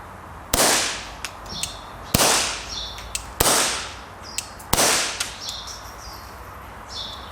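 Suppressed Ruger Mk.II Target .22 Long Rifle pistol fired four times at a steady pace, each a loud, hissing crack followed by the metallic clack of the action and faint ringing.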